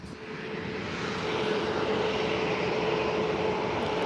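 A jet airliner in special livery passes at San Diego airport, a dense, steady engine roar that swells in the first second and then holds loud and close, with a faint whine running through it.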